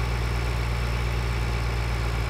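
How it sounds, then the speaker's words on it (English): A tractor engine in the Farming Simulator 2013 video game, a steady, loud, even drone with a constant low hum and no change in pitch, heard alone without talk. "this tractor's pretty quick"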